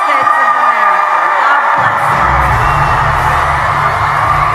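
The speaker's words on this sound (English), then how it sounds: "Listen to the energy in that crowd, an excited group of tens of thousands of people" Tens of thousands of people at a political rally cheer and shout in a loud, sustained roar that swells after a short spoken line over the noise.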